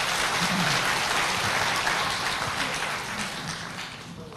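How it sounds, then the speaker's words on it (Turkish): Sustained applause from an audience at an opening ceremony welcoming a child performer onto the stage, dense and steady, then thinning gradually toward the end, with faint voices underneath. "kuvvetli alkışlarınız Şükran Kasım isimli yavrumuza gelsin"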